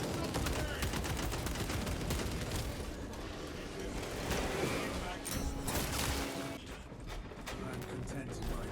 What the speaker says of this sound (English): The gun sounds so good too.